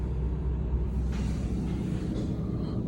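Automatic car wash running with a steady low rumble and wash of spraying water and machinery noise, continuous and enveloping from inside the car, with no voices.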